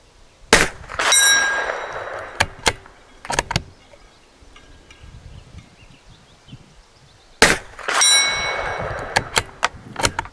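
Remington Thunderbolt .22 rounds fired at 220 yards strike a steel target. Two bursts of sharp cracks are each followed by bright metallic rings, with quieter pauses between them.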